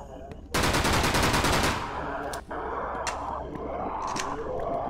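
An Uzi fires a single loud automatic burst of about a second in the survival horror game Remorse: The List, followed by scattered sharp impacts and lingering ambient noise inside a hospital.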